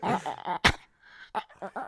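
A dog whimpers right up against the microphone in short, close, breathy bursts with a sharp yip partway through, with bits of nearby human voice.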